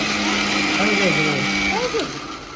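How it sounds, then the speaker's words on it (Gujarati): A mixer grinder whirs with a steady high-pitched motor drone, close by, as someone speaks over it before it winds down. "તમારે કદાચ મિક્સર નો વધારે અવાજ આવશે."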